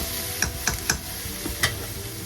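Beef, broccoli and pak choi being stirred in a hot pan, a steady sizzle broken by several sharp scraping clinks of the utensil, close and alone.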